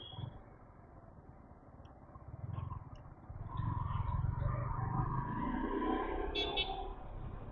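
Road traffic heard from inside a moving vehicle makes a faint, low rumble that swells partway through, with passing engine noise and a few light tonal squeaks.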